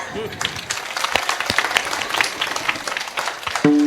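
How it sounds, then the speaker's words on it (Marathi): Applause at a Marathi kirtan, a crowd of listeners clapping in a dense, steady burst that stays level, with voices mixed in and a short tonal sound near the end. "एकदा सर्वांनी टाळ्या वाजवा"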